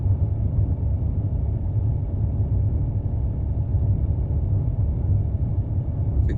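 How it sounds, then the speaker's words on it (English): A BK160 Gabriel light aircraft's engine at full RPM during the takeoff roll, a loud, continuous, even drone with steady low rumble and no speech over it. "And we're rolling. Red line the RPMs, let's bring that back a touch."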